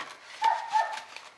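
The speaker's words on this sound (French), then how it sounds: "Désolée si vous entendez le chien aboyer" A dog barks faintly indoors, two or three short yips spaced close together, distant and thin, with no talk over it.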